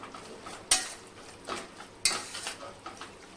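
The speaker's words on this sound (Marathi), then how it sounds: "किमा छान परतून परतून घ्यायचा आहे" Minced mutton keema, dhaba style, sautéed and stirred in a pan: a soft steady sizzle broken by two sharp spoon scrapes and lighter scraping strokes, close up with no talking.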